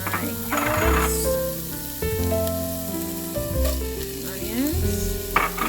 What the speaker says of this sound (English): I heat my olive oil over medium heat, put my garlic in, and then I'm gonna go ahead and put my carrots